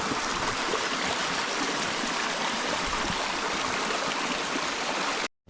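Steady rushing of a monsoon-fed stream running continuously past a house doorway in rural Konkan, a dense, unbroken wash of flowing water close by that cuts off abruptly at the end.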